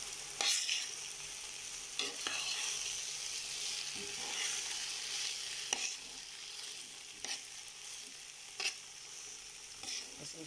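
Fried rice with shrimp paste is stirred in a pan over a steady bright sizzle, with spatula scrapes striking every second or two, close and with no talk.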